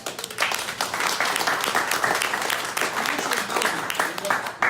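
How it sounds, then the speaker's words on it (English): Audience applause at a veterans homelessness event in March 2019: a dense, steady patter of many hands clapping that fills the whole stretch at even loudness. "give him a round of applause"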